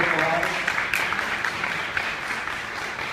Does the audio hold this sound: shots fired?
no